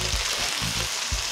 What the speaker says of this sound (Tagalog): At pritong ararawan o fried kamarong, pinagkakakitaan ng mag-asawa sa Dingras, Ilocos Norte.